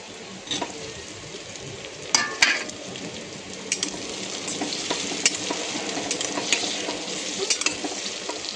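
Ginger, garlic and onion fry in a pan for a vegetable pulao, giving a steady close hiss and sizzle with a few sharp clinks of a spoon against the pan.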